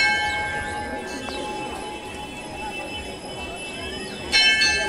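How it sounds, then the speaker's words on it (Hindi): A large bell at the Haleshwar Sthan Shiva temple in Sitamarhi, Bihar, gives a sustained metallic ring that hangs in the air, with a fresh strike near the end, while someone talks over it. "ये देखिए बड़ी घंटी सी लगी हुई है यहाँ पर"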